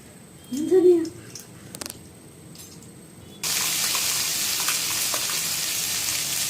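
Herb paste for patwadi, a Maharashtrian dish, hitting a hot pan: a brief voice-like sound at the start, then a loud, steady, hissing sizzle that begins abruptly midway and continues evenly to the end.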